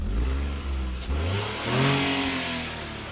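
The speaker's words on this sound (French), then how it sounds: "Bon, le moteur, il est déjà démarré" Fiat 500 Blackjack engine revving, recorded right at the exhaust: several close, loud blips that rise and fall with a raspy drone between them.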